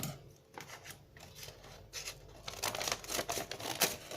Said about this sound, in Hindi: अब हम इसकी स्ट्रिप्स काट लेते हैं।